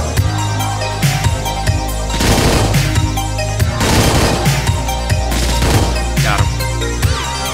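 Gunfire from a weapon in the top-down shooter Hotline Miami 2 at Satan's Dockyard: loud, repeated sharp bursts that keep firing over a dense, driving game soundtrack for several seconds.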